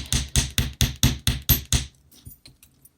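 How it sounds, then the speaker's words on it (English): Eight quick, evenly spaced hammer blows ring out close up on a thin sterling silver wire shawl pin, each sharp metallic tap decaying briefly, followed by a few faint light taps and then quiet. "So I'm hammering on both sides evenly."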